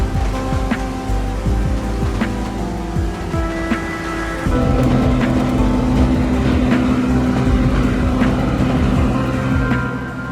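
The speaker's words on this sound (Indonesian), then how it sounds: "Kapal Yushin Maru mulai memasuki kawasan pelabuhan Shimonoseki." The engine of the Japanese whaling factory ship Yushin Maru drones steadily in the foreground as it enters Shimonoseki harbor, with water sloshing around it, and the rumble grows louder and fuller partway through.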